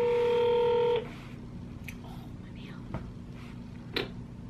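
Telephone keypad tones sound as a number is dialed to reach the police, a loud steady tone burst for the first second, then quieter room noise with a few faint clicks and soft whispering.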